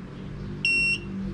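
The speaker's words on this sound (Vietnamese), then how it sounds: "nó kêu hai tiếng bíp, các bạn buông ra nè." A Bluetooth thermal printer emits a single clear electronic beep, a steady high tone lasting about a third of a second and standing out over a quiet room background.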